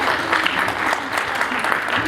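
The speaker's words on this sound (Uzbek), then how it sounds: "Omadli onamizga qarsaklar bilan olqishlab qo'yamiz." Applause at a first-grade school literacy celebration honours a mother, a short burst of steady clapping from a room of people, with a voice talking over it.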